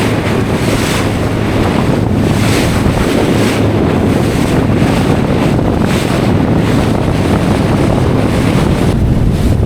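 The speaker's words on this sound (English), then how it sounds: "It's wild at the moment. This wind has really picked up." Strong wind buffets the microphone on a small Warrior 165 fishing kayak at sea off Anglesey, a loud continuous roar with gusting surges over sloshing waves and water against the hull, with no talking.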